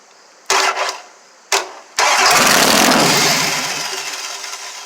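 A Dodge Daytona engine on a bare 4WD frame cranks in two short loud bursts, then catches on the third try and settles into a strong, steadily fading run nearby.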